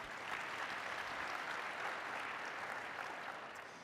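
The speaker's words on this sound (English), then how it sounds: "Let's give them also a big round of applause." An audience at a summit gives a sustained round of applause, a dense even wash of clapping heard at a distance that tapers slightly at the close.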